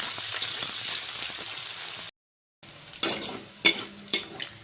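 Dried Bombay duck (lote shutki) frying with lightly browned onions in a pan: a continuous close sizzle, a brief drop to silence, then crackling frying with sharp scrapes and clinks of a stirring utensil.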